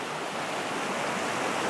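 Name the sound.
river water flowing strongly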